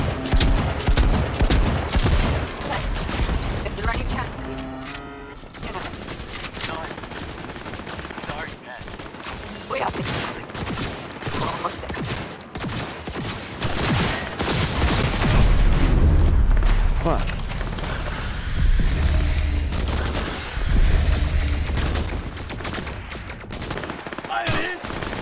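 Shotgun fire in Cyberpunk 2077 keeps going in loud, rapid blasts and booms, joined by heavy mechanical clatter and deep rumbling impacts, with a voice talking now and then over the gunfire.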